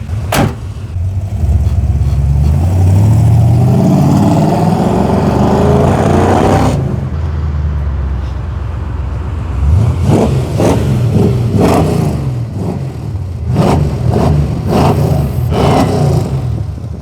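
A car with a troubled transmission revving loudly as it passes close by: a rising, roaring engine sweep that fades, then a second revving pass with sharp bursts and rattles.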